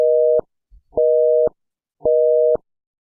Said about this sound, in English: phone off hook, phone off hook, phone off hook